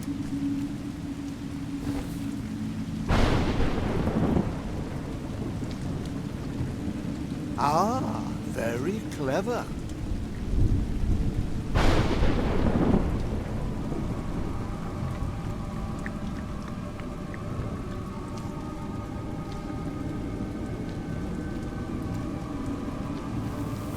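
Rain and thunder in the video game A Juggler's Tale, a steady wash of rainfall with a couple of sharp thunder cracks breaking through, while a narrator speaks briefly.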